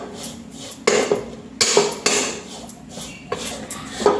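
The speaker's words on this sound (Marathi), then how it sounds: "मंद आचेवर खोबरं भाजत आहे" Desiccated coconut roasting in ghee in a pan over a low flame, stirred with a metal spoon that clatters and scrapes against the pan in irregular bursts, with a few sharper clinks in between.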